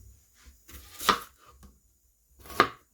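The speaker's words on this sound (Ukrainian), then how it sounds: "Для неї саме перше наріжемо цибульку." A knife chops onion on a cutting board, with two sharp, distinct knocks about one and a half seconds apart and a few softer taps between them, close and quiet.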